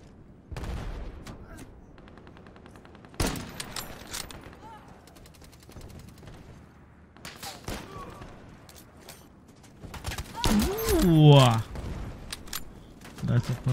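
A Kar98k bolt-action sniper rifle fires in a video game, giving a few sharp, loud cracks spread apart, with mechanical clatter in between and someone talking now and then.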